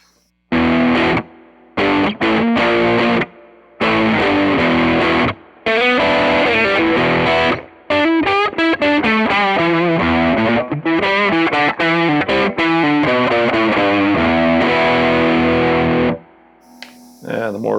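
Heavily distorted riffs and chord stabs from a Jerry Cantrell Les Paul Custom Prophecy in Bone White, played on the neck pickup: loud bursts separated by brief silences, then a longer run of fast notes, with no talk.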